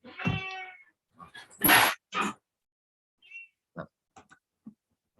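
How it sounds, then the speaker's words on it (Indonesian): Indoors, a cat coming into a room gives a drawn-out meow followed by a few shorter meows and calls, then fainter, scattered sounds. "Ini ada tamu masuk. Ada kucing suka ke sini."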